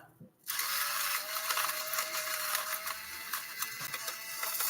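An electric pepper grinder runs steadily, grinding black pepper into a tablespoon for Salisbury steak; a continuous, close whirring and crunching starts after a brief pause and holds evenly throughout.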